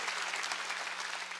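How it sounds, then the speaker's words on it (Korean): Church congregation clapping together during a Wednesday worship service, a steady unbroken wash of many hands at an even level throughout. "박수 치라"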